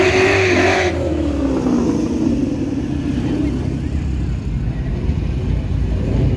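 A sixth-generation Camaro accelerates hard in a drag race at the track, a loud close engine roar that rises in pitch, then settles into a sustained rumbling drone as the car pulls away.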